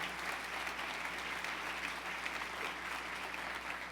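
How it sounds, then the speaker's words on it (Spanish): Church congregation clapping for the Lord during a sermon, a steady, even wash of many hands heard at moderate distance, continuous and unbroken for the whole stretch. "Dele un aplauso al Señor."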